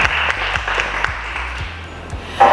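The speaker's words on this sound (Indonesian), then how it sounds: "tepuk tangan untuk kita semuanya" Audience clapping at a millennial entrepreneurs' business exhibition, a steady dense patter lasting the whole stretch with a low rhythmic beat underneath.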